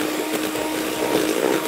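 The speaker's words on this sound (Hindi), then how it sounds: "मक्खन थोड़ा सा नरम कर लें और फिर फेंटना शुरू कर दें" An electric mixer whirs steadily as it beats softened butter and icing sugar for a chocolate cake, a continuous close, loud motor drone throughout.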